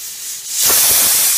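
A pressure cooker with jackfruit seeds inside suddenly bursts into a loud, sustained steam hiss after a brief quieter moment, the release continuing strongly to the end.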